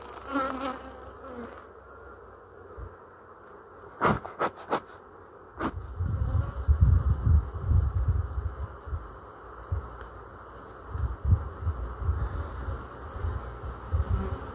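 A honeybee colony buzzes steadily during a hive inspection, with a few sharp clicks and bursts of louder, close-by buzzing and low rumbling handling noise.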